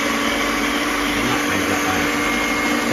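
A blender chops chestnut mushrooms and garlic, giving a loud, steady motor whir with a dense grinding hiss that holds unbroken from start to finish.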